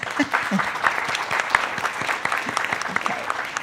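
A crowd claps continuously for children at an art show, a dense patter of hand claps at moderate volume with a few voices mixed in.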